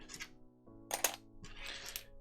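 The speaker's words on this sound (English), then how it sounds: "Any of these red keys as well, they can all go in the tub" Red plastic keycaps from an Isla prototype keyboard drop into a tub, three brief clattering bursts close by, each a quick cluster of light clicks separated by short pauses.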